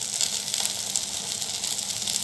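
Drumstick stalks sizzle steadily in hot oil in a pan, a close, even frying hiss with no voices over it.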